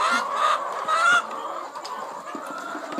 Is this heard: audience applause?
no